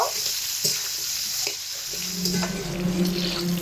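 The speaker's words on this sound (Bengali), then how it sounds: "ডাটাগুলোকে তেলের মধ্যে দিয়ে মোটামুটি তিন থেকে সাড়ে তিন মিনিট সময় ধরে একটু ভেজে নেব" Drumstick stalks for shukto fry in hot oil with a steady broadband sizzle, occasional stirring clicks and scrapes, and a louder bubbling patch toward the end, close and alone with no talk.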